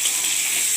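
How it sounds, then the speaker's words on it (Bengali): Brinjal pieces sizzle steadily in hot oil in a pan while being stirred, a continuous close, bright frying hiss. "বেগুনটা আমি নেড়ে দিই"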